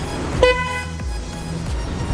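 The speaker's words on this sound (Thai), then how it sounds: "ทีนี้เสียงแต่ใหม่นะครับ เราลองฟังเสียงกันดูนะ" Aftermarket horn fitted to a Demon GR200R motorcycle gives a few short, close honks in quick succession, each a bright toot with no speech over it.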